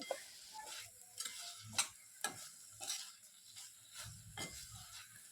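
Chopped tomatoes with masala are sautéed in a pan, a spoon stirring and scraping in sharp intermittent clacks over a faint sizzle, close and quiet.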